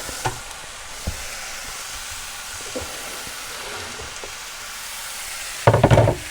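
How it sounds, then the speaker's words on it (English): Chicken sears in a pan on a stove inside a VW T4 camper van, a soft steady sizzle with a few sharp ticks and pops, then a louder clattering burst near the end. "seal this and sear it off"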